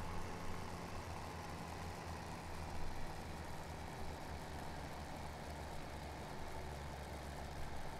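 A tractor engine in Farming Simulator 17 drones steadily and loudly with a low, rumbling idle-like hum, holding constant throughout with no talking.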